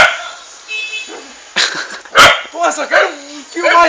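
A dog barks and yips several times close by, mixed with short whimpers, while someone speaks in between.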